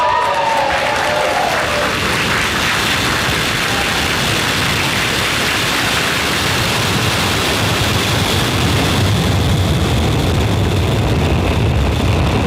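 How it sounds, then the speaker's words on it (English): Falcon 9 rocket carrying Starlink satellites lifts off from SLC-40 at Cape Canaveral, a loud, steady broadband roar that fills the scene and swells slightly toward the end, with no talk over it. "Ignition and liftoff of Starlink 414."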